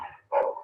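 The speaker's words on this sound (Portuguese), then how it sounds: "agora os cachorros do vizinho" Neighbour's dogs barking, two quick nearby barks in under a second, the second louder and longer.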